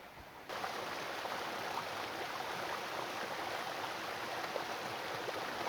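Stream water flowing steadily at the Arroyo Pedro Gil ford in Adamuz, a continuous broad rushing wash heard alone without talk.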